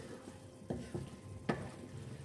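Boiled chana dal being stirred into mutton qeema in a pan, with three distinct spoon scrapes and clatters over a faint, steady sizzle.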